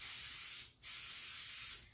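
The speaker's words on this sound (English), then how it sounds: "I'm just going to spray this top rim over here to the side" Aerosol spray paint hisses onto the top rim of a big stainless steel tumbler in two close, steady bursts, the first about half a second long and the second nearly a full second, separated by a brief pause.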